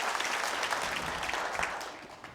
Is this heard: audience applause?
yes